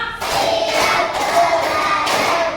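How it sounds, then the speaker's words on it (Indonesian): Children in a classroom clap together as part of a teacher-led counting chant. A few loud group claps sound close and slightly blurred over a steady room noise. "tepuk lima"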